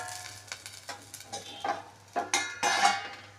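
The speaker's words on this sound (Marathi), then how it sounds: "यावर झाकण ठेवायचं" A lid is set down on a pan cooking an upvas fasting dosa in oil, a series of light metallic clinks and taps building to a sharper clatter over a soft, steady sizzle.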